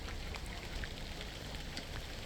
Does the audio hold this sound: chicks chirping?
no